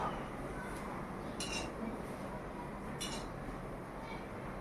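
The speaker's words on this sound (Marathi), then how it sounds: "असं त्याला तेलामध्ये टाकल्यानंतर असं हळूहळू एकदम झाऱ्याने त्याला हलवायचं" Slotted spoon lightly scraping and clinking against a pan while gulab jamun are gently stirred in hot oil over low heat, a few faint metallic taps spaced apart over a soft continuous background.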